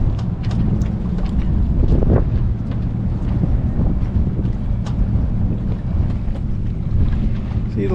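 Steady wind rushes and buffets the microphone aboard a sailboat off the coast of Maine, with water noise from the hull underneath, continuous and fairly loud throughout.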